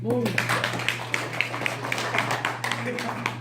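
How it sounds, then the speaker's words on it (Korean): An audience at a lecture on the fourth industrial revolution and IoT claps in a steady, even rhythm of distinct hand claps, heard under a speaking voice with a low background hum. "박수 한번 쳐주세요."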